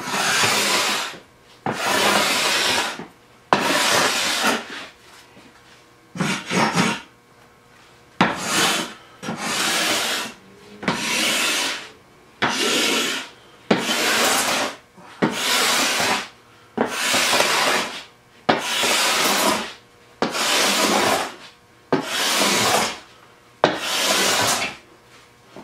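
A hand scraper draws across mahogany on a buffet top in about thirteen steady, loud rasping strokes separated by short pauses, with no talk.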